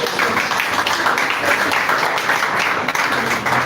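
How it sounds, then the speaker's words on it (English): Applause from a seminar audience fills the room, a steady dense wash of clapping at moderate loudness that holds evenly throughout without pause. "So give yourself a round of applause."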